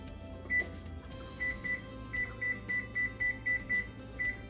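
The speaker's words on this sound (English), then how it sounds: "We will set a timer for 9 minutes." A kitchen timer gives a string of short, sharp beeps, about ten in quick uneven succession, as it is set to nine minutes for beef mushroom noodles, over a low hum of background kitchen noise.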